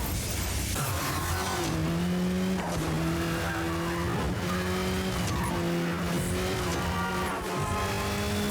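Tires squeal through a long drift in the racing video game Burnout 3: Takedown, a sustained rising and falling screech layered over a loud, continuous engine roar.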